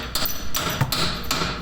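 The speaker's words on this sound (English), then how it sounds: "Take that little rod from the top and pound it down a little bit" Metal strikes on a shock absorber rod, pounded down from the top during axle work on a 2004 Chevy Silverado: four or five sharp, fairly close blows at an uneven pace over a noisy background.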